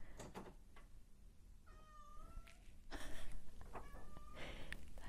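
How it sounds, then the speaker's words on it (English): A cat indoors gives several short meows, one drawn out and rising, against a quiet background of faint rustling and soft knocks. "That's my cat, if you can hear her."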